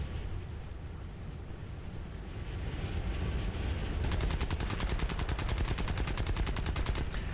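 Aircraft cannon fire strafing ground vehicles in the War Thunder combat game: a steady roar of engine and wind, then a rapid unbroken burst of loud, evenly spaced shots running through the second half.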